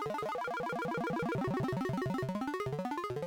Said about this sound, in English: the notes were played in rapid succession after each other to get that sort of arpeggiated sound